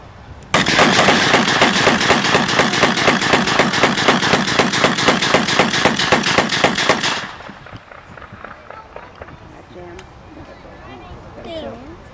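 WWII-era US guns fire blanks in a rapid, loud burst of automatic fire lasting several seconds, then stop abruptly; people talk faintly afterward over outdoor ambience.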